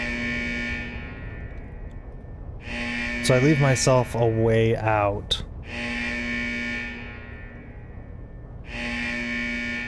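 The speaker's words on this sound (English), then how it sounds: "I just kind of wait for this buzzer to go off" Loud, steady door buzzer in a Call of Duty DMZ match at the Koschei Complex, sounding in long sustained bursts with brief gaps, someone talking over it in the middle.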